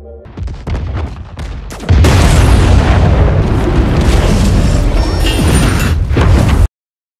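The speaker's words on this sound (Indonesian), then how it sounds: "Atlas pun memerintahkan untuk meledakkan ranjau-ranjau yang telah dipasang" Planted mines detonate in a massive explosion against an approaching planet-destroying villain, a loud sustained roaring blast that erupts after a short rumbling build-up and fills the space for several seconds before cutting off abruptly.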